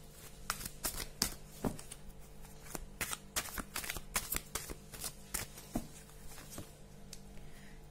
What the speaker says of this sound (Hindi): कैरियर के लिए मैंने यहाँ पर कार्ड निकाल लिया है